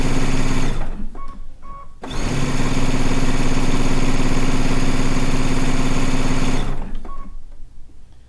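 A sewing machine pieces quilt strips together in a studio, running in a steady loud whirring burst of several seconds after a few short stitching starts, then slowing to a stop.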